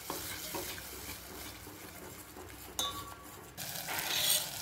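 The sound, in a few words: ground masala paste added to horse gram usal, sizzling and stirring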